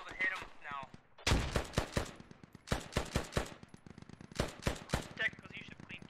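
Rapid machine gun bursts from a technical in a military shooter game, several sharp volleys of sustained automatic fire with brief pauses between them, loud and close over faint background radio chatter.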